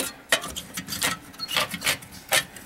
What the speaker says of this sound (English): Gonna go ahead and take our socket adapter. That's just gonna get, see there's a socket up there, right? Let's screw this guy right in.